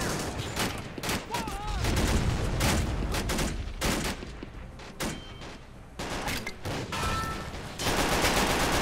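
Rapid bursts of rifle and machine-gun fire crackle from a 2v2 skirmish in the strategy game Men of War Assault Squad 2, loud and choppy with brief pauses, while a voice talks over the battle.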